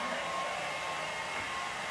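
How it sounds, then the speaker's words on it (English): A regular handheld hair dryer blows air in a hair salon, a steady loud whooshing roar with a faint motor whine that holds unbroken and close throughout. "You can use just a regular dryer."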